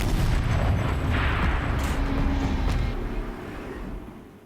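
In the Horizon video game, a tank's turret cannon fires with a heavy boom, then a long, rumbling roar that slowly fades away.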